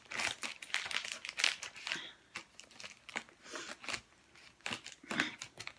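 A plastic mailing bag with a clothing order is cut and torn open by hand with scissors, a close series of crinkling snips and rustles in an uneven rhythm, with no talking.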